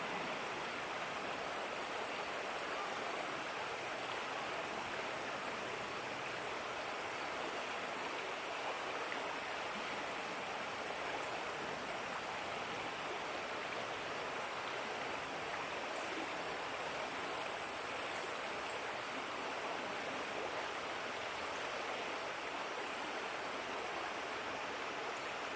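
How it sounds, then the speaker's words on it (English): A river flows steadily beside a quiet outdoor spot, its broad continuous rushing hiss unbroken and even for the whole stretch, close and fairly loud with no voices over it. "as you listen to the sounds of the earth and the sounds of the river"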